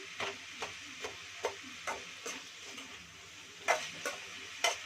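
Spatula stirring fried onion curry in a pan, a series of soft scraping knocks at an irregular pace over a faint sizzle, close and quiet.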